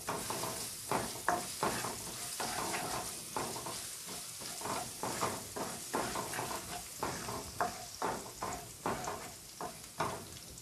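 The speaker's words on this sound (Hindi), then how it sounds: "लहसुन को थोड़ा फ्राई करने के बाद" Chopped garlic fries in a pan for masala aloo, giving a steady sizzle with repeated scraping stir strokes in a regular rhythm. The sound is close and no one speaks.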